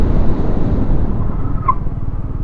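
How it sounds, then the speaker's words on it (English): A 2020 Kawasaki Z125 Pro motorcycle with brakes not yet broken in brakes hard, its engine note close and loud, dropping steadily as it slows, with a brief squeal partway through. "Let's do a hard brake."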